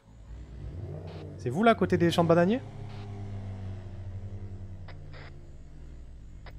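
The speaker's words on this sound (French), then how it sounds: "Une voiture qui arrive en face." A car in a GTA roleplay game approaches head-on and revs past loudly around the midpoint, engine rising and falling before settling into a steady rumble, with people talking over it.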